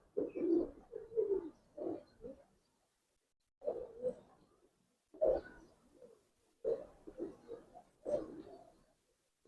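Giribaz pigeons in a loft in Old Dhaka give low, throaty coos in repeated bursts with short silent gaps between them. The sound is fairly close and moderately loud, with no talk over it.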